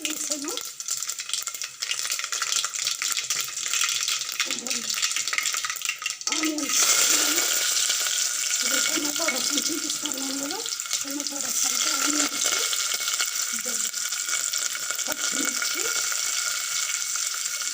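Mustard seeds, cinnamon and cloves hit hot oil in a pot, bursting into a loud, continuous sizzle after a quiet start, with a voice talking over it and occasional stirring.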